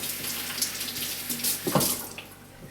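Running tap water pours into a kitchen sink as celery stalks are rinsed underneath, a steady splashing stream with brief louder gushes as the stalks move through the flow.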